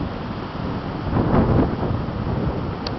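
Wind gusts through a backyard garden with apple trees and bamboo, a rushing, buffeting roar against the microphone that swells in the middle and then eases back, with no talking.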